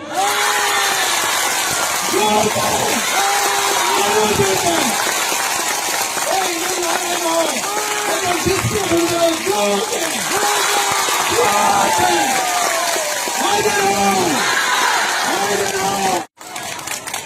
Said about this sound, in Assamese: যদি হয় জোৰকে এটা হাত তালি মাৰক